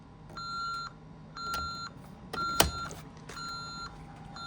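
A Honeywell Vista 20P alarm system's 6160 keypad beeps four times at a steady pace, each a clear, moderately loud electronic tone, with a sharp click near the third beep.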